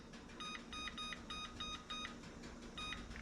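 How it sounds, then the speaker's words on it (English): A kitchen timer beeps in short double and triple bursts while being set for ten minutes, small and thin over faint room hum. "And then we're going to set a timer for 10 minutes."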